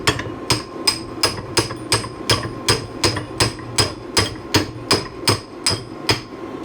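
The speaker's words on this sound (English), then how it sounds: "trying to punch out any leftover rust." A hammer strikes a punch to knock rust out of an old post vise being torn down for restoration, about a dozen sharp metallic blows in an even, steady rhythm, close and alone.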